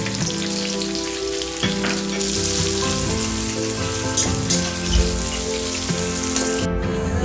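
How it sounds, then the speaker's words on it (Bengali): Chopped onions and cumin frying in hot oil in a kadai for ghugni, a steady close sizzle with occasional stirring clatter, no talking. "পেঁয়াজটাকে ভালো করে ভেজে নেব।"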